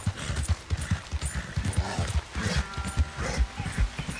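Horse hooves galloping in Red Dead Redemption 2, a fast, steady drumming of close, heavy hoofbeats repeating throughout, heard alone without speech.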